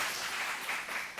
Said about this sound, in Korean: 어린이들의 찬양 하나님께 영광의 박수 올려드리겠습니다